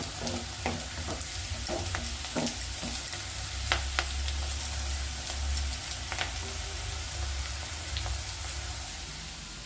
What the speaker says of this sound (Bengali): সবজিটা ফ্রাই করে নিচ্ছি